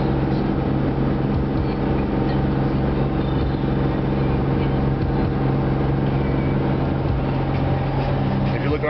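A diesel engine holds a steady drone at about 2,500 to 2,800 RPM, with a constant, close, humming tone and someone talking over it.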